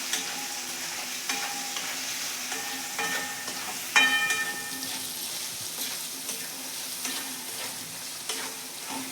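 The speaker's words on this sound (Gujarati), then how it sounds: "હવે આપણે બધી જ વસ્તુને મિક્સ કરી લેશું." Spoon stirring spices, cumin and chili powder into a mango curry in a pan, with a steady faint sizzle and scraping throughout and a louder clank partway through; no talking.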